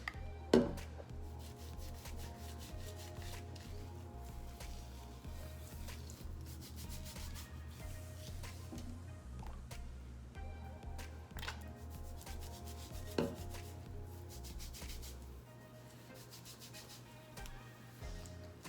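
Homemade aloe vera oil being rubbed into the scalp with fingers, soft continuous rubbing and scratching close by, fairly quiet, with no talking.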